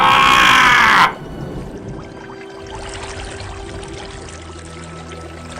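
Floodwater surges through a valley in a loud rushing pour that cuts off abruptly after about a second, leaving a faint low background hum.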